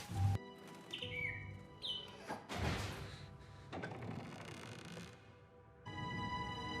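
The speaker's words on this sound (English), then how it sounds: "Oh no, poor bird." Bird chirps and tweets in a Harry Potter film scene, with short bright calls among thuds, door-like sounds and a busy soundtrack, moderately faint.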